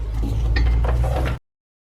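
A hand ratchet clicks rapidly while tightening size 15 brake caliper carrier bolts on the front brakes of a Jaguar F-Type. The loud, close ratcheting runs about a second and a half, then stops abruptly.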